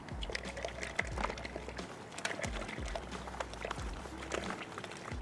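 Powdered beer enhancer from a home-brew kit is tipped into a vessel of hot water alongside malt extract, giving a soft, faint continuous pour and splashing with light trickling and occasional small knocks.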